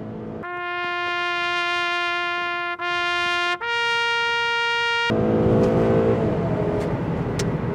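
A V6 car engine accelerates hard uphill, its steady tonal whine climbing in pitch through two quick gear shifts before settling into louder, rougher road and wind noise, heard from inside the car.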